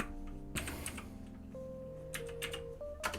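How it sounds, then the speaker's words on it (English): Keys on a computer keyboard tapped in quick bursts, faint and close, over a low steady hum with a few tonal notes. "I'm just typing in that"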